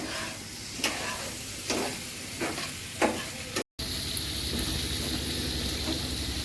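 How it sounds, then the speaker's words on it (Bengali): Potato, shrimp and tomato frying and being stirred in a pan, a steady sizzle with several distinct scraping stir strokes, briefly cut by a short dropout before the hiss continues alone. "এই যে আমার আলু চিংড়ি টমেটো কষানো হয়ে গেছে"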